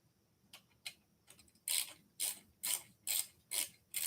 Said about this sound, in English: I'd probably rather use an actual, 8 mil wrench for this